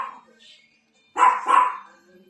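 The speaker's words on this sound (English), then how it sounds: "What's he barking at?" A dog barks twice in quick succession, loud and close indoors, after a moment of near silence with faint voices at the start.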